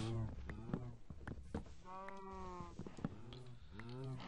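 Cows mooing in the Minecraft video game, several drawn-out harmonic lows repeating in a loose rhythm, fairly close and steady, with footstep-like clicks and no talk over them.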